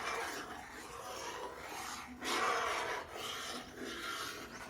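A ladle quickly stirs cornflour into milk in a pot for a strawberry jelly thandai drink, making continuous rasping, scraping strokes that swell and fade in an uneven rhythm, close and moderately loud.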